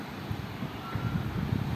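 Strong wind before a sudden storm buffets the microphone outdoors, producing a continuous low rumbling roar with gusty surges and no talking.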